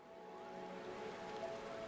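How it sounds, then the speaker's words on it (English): Steady rain in the video game Final Fantasy XIV near the Aetheryte in Gridania, a continuous soft hiss mixed with a faint musical drone, no voices. "it's raining"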